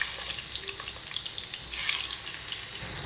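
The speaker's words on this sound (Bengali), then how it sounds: "এটা আমি ভালো করে একটু ভেজে নিব নেড়ে চেড়ে।" Frying and stirring in a pan while making hog plum pickle: a dense, continuous sizzle up close with a few clinks and scrapes of stirring, and no talk.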